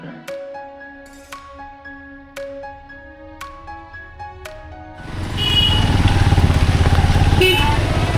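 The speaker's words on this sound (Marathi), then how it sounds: "आपण बाईक आणले तर आपण बाईकनं जाऊया" After a stretch of ringing bell-like chimes, a motorcycle rumbles loudly and steadily along a rough, gravelly, muddy forest road toward Tungareshwar, its close engine and road noise continuing to the end.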